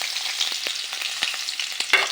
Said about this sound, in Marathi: मीडियम फ्लेम करून त्यामध्येच आता आपण मिरच्या तळून घेऊयात।